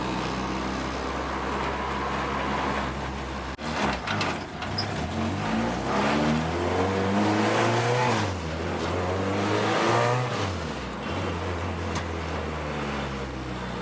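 Race car with a K24 engine accelerating and revving hard, exhaust burble running through rising and falling pitch sweeps, loud and close with no talk over it.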